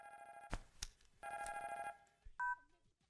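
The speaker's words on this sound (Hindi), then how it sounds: "फोन बज रहा है।" A telephone rings in short electronic bursts, two ringing phrases separated by gaps, followed by a brief higher beep, fairly clear against a quiet room.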